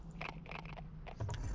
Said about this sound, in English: I thought the sound of me chewing that banana might be a bit